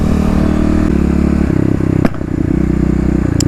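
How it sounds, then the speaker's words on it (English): Kawasaki KLX351 EFI motorcycle engine running loud and close with a rhythmic, throbbing idle, broken by one sharp backfire pop partway through and a fainter crack near the end. "big backfire there"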